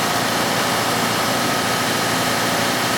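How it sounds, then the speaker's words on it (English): Cadillac engine held at raised RPM while VVT codes P0011 and P0014 are checked: a loud, steady, broadband engine roar, close by and unbroken. "Put the RPMs up, take it up to say"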